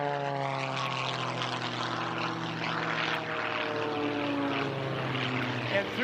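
A propeller aerobatic airplane rolls to the upside-down position at the Hill air show, its engine droning with shifting pitch at moderate distance, and an announcer's voice is heard over the sound.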